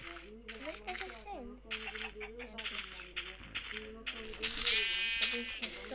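A sheep bleats in Minecraft Pocket Edition, with a synthetic wavering cry over layered music and other game sounds throughout.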